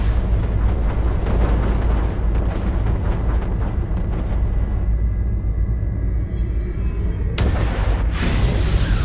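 Missiles explode in a Fractured Space space combat game: a dense, continuous barrage of booming blasts and rumble fills the whole stretch, loud and close, with a sharp burst near the end.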